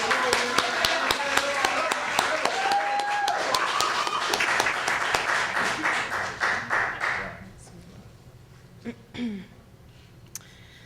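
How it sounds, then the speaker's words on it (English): Audience at a poetry reading in a branch library claps warmly for about seven seconds, a dense patter of hands that thins into a few scattered claps and some faint room shuffling. "Let's give her a great round of applause."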